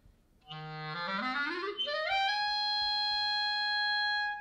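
A clarinet plays a trill into a long rising glissando spanning over two octaves, ending on a sustained high note, solo and clear, like the opening of Gershwin's Rhapsody in Blue.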